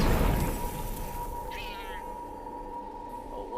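A cat meows in the video game Forspoken, one drawn-out meow near the middle of the clip, close and fairly clear over a steady background hum and game ambience.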